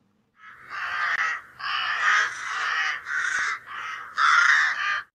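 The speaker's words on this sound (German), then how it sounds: "Alter, ist die Krähe da frech." A crow caws repeatedly and loudly nearby, a series of about six harsh, raspy calls in uneven rhythm with short gaps between them, alone without talk.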